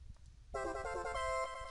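Phone ringing in the Mother 3 video game, a sustained bright electronic ringtone starting abruptly and holding steady, fairly faint, over low background murmur.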